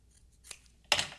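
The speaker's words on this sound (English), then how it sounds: "I'm going to trim it down a little bit" A piece of pink paper being trimmed down by hand for a crafting card, with a couple of quiet snips followed by one louder, close scissor cut and a brief rustle of paper.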